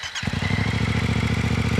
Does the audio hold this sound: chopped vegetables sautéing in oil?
no